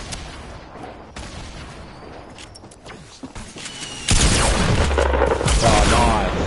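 Video game combat with grenades being thrown gives a sustained roar of gunfire and explosions that swells loudly in the second half, with players talking over it.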